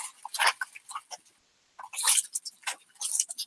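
Aluminum foil being crunched and squeezed by hand to form an armature for a figure: close, crisp crackling bursts in irregular clusters with a brief pause midway, and no talking.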